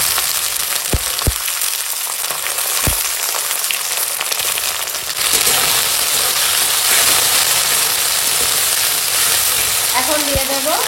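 Ginger-garlic paste and raw tomato dropped into hot oil, a close, continuous sizzle that swells louder midway, with a few stirring knocks and a brief tonal squeal near the end.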